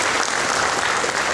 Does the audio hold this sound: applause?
yes